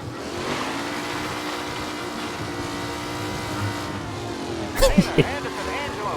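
A race car engine in Mafia: Definitive Edition drones loudly at sustained high revs, then several sharp bangs and skidding cut in near the end, with someone talking over it.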